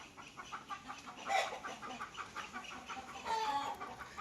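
Busy chirping and clucking from a flock of quail chicks, steady and close, with a couple of louder bursts of calls.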